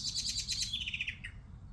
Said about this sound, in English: There's a blackbird there.